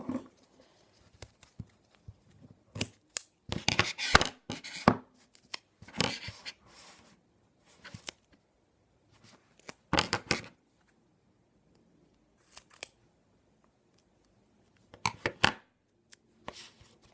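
Scissors snip through paper in scattered short bursts, some quick clusters of cuts and some single snips, close by with quiet gaps between.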